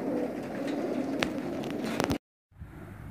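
Racing pigeons waiting in a misty forest meadow before a training release, cooing softly and continuously at close range, broken by a brief dropout near the end, with no talking.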